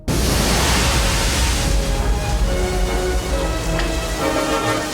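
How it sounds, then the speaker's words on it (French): Endless rain of blood pours down in a horror film, heard as a loud, steady rain-like wash of noise that holds for the whole stretch with no talking. "Et quand le bébé éclate, il y a une pluie de sang interminable."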